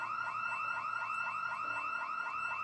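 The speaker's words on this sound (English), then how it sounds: "the alarm from the laundromat has unfortunately alerted every one of these hungry undead in the area" Laundromat alarm in the zombie survival game Project Zomboid, a loud repeating electronic warble that sweeps up and down rapidly, continuous and steady throughout.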